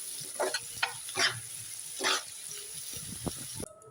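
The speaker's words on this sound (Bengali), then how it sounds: "সবগুলা সবজি 2-3 মিনিট নেড়ে ছেড়ে রাইসগুলো অ্যাড করে দেবো।" Vegetables for fried rice being stirred and tossed in a frying pan, giving soft scraping strokes and light sizzle in a few bursts, moderately close, with no talk.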